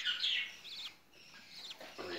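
Budgerigars, a parent pair kept in an aviary with their chicks, chirp in bright, busy bursts that rise and fall over two seconds, fairly faint and continuous, with no speech.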